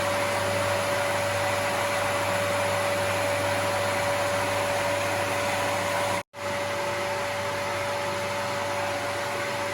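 A swimming pool filter pump motor runs with a steady, even mechanical hum and broadband whir. It stays constant and close throughout, with one brief dropout near the end.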